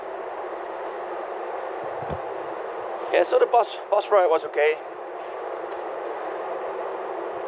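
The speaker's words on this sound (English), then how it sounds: "this is my train to Cologne, Regional Express train number 9" Regional Express train number 9 to Cologne, near the Dutch border, with a steady, even rumble running throughout and a short stretch of talk near the middle.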